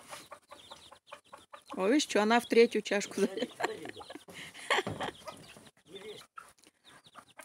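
A mother hen among her chicks, with bowls of feed set out in separate corners, gives short repeated clucks while a person talks excitedly over them nearby.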